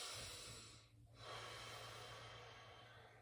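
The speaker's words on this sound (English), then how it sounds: "So this is Ujjayi breath" Ujjayi breathing during a yoga hip-opening flow: a soft, close, hissing breath with a brief pause near the middle before the next slow, steady stream of air.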